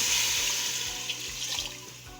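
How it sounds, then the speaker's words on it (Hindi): Water pours steadily in a continuous splashing rush close by, filling a cooking pot for a couple of seconds without any talking. "पानी भी तकरीबन हम 2 जग के करीब डालेंगे इसमें"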